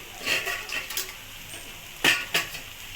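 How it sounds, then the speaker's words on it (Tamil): Spoon scrapes and clinks against a pan while tapioca stir-fry is stirred, a few scattered strokes with a quiet sizzle underneath and no talking. "நல்லா கிண்டிடுவோம்"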